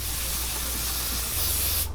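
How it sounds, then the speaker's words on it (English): Steady, close airbrush-style hiss of pearl white paint being sprayed onto handmade internal weight transfer fishing lures, continuous and broadband with a low compressor hum underneath, alone without talk. "And now we're gonna spray. Pearl white on everything."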